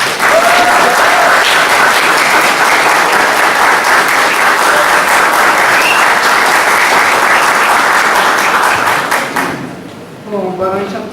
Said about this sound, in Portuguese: Eu acho que uma salva de palmas.